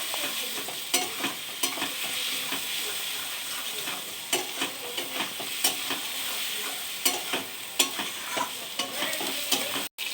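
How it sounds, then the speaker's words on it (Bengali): Spice paste stir-fried in a pan before meat goes in: continuous close sizzling with repeated scraping strokes of a spatula against the pan, steady and alone with no talk. "এবার এটা ভালো করে কষায় নিয়ে মাংস দিব।"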